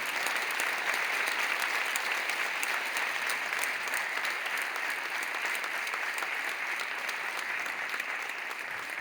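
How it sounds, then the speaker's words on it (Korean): Sustained applause from a large church congregation at a Sunday school teacher appointment ceremony, dense and steady clapping filling the room for several seconds without a break. "돌아서 인사하실 때 큰 박수로 격려해 주시기를 바랍니다"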